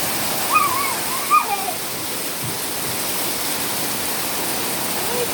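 Hailstorm pelting a backyard trampoline and surroundings, a dense, loud, continuous hiss of falling ice with a few faint high voices briefly rising over it.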